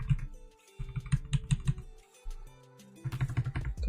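Rapid bursts of clicking keystrokes on a computer keyboard, close and crisp, coming in uneven runs with short pauses between them.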